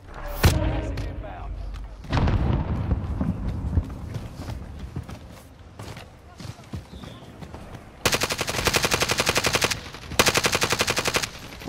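Bursts of rapid automatic gunfire in the battle royale video game Call of Duty: Warzone, with scattered single shots and thuds early on, then two loud sustained volleys near the end.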